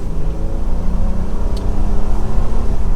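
A 2025 Honda Pilot Trailsport AWD speeds up to a little over 4,000 RPM and about 45 mph. Its engine gives a loud, steady droning rev with road rumble, heard from inside the cabin with no talking.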